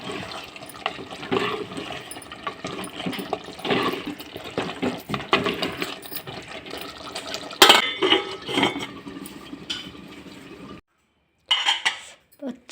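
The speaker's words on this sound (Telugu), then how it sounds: "కొంచెం చికెన్ మసాలా వేసి బాగా కలిపేసి మూత పెట్టాలి." Chicken being stirred with masala in a cooking pot before the lid goes on: irregular metallic clanks and scrapes of a spoon against the pot, with moist shuffling, a brief silence, then a final clatter, and someone speaking in between.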